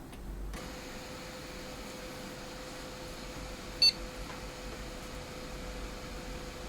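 A Gigabyte-board desktop PC with mixed memory sticks and some dust gives a single short startup beep on power-on, then stalls at the BIOS screen; the brief, clear tone sits over a low, steady fan hum.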